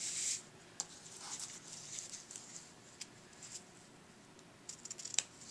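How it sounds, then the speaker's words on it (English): Ribbon scissors trimming the edges of a handmade red Christmas card, giving faint, sparse snips and paper rustles spread across a quiet room. "Then I'm going to take my ribbon scissors"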